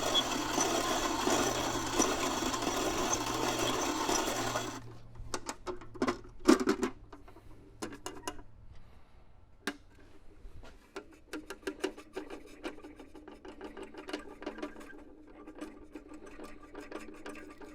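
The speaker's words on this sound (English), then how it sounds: "you can grind this coffee up" A hand coffee grinder crushing coffee beans, a wartime Italian or German army style grinder, gives an opening stretch of steady dense rasping, then irregular gritty crunches and scrapes as the beans are worked through the burrs.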